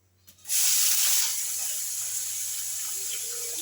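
Onions and curry leaves dropped into very hot coconut oil in a pan, a loud sudden sizzle bursting in after a short quiet moment and settling into a steady crackling hiss that continues to the end.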